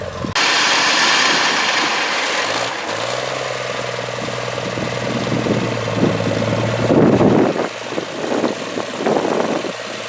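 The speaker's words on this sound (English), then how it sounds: "I better move this tractor." A tractor engine starts and runs nearby at a steady idle, its chug rising as it revs toward the end.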